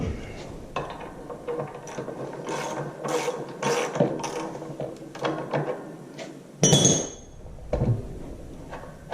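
A ratchet wrench removes the last engine bolt on an IHC Farmall Super MTA tractor, a steady run of loud close clicking ratchet strokes with brief pauses, ending in a metallic clink.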